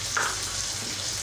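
Tomatoes going into a hot frying pan of kebab halla meat, giving a close, steady sizzle with a brief brighter hiss as they land.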